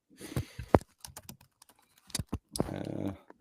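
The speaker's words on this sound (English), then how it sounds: "your audio is like the typing of your keyboard is getting picked up" Keys on a computer keyboard clatter in quick, uneven bursts with short pauses, close and fairly loud, picked up by a microphone during an online call.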